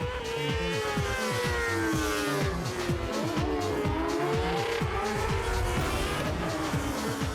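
A sidecar motorcycle races past at over 250 kilometres an hour, its engine screaming loud and close with high revving whine and pitch shifts, a continuous roaring drive throughout.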